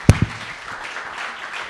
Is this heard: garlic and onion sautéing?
no